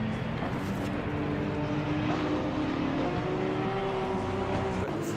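Porsche Cup race cars on a warm-up lap at the Hungary circuit drone steadily from a distance, a continuous engine hum with rising and falling tones and no talk.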